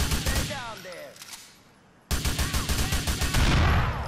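Gunfire in the GTA 4 video game, a burst of rapid shots followed by a brief lull and then more sustained, loud firing, with a voice talking over parts of it.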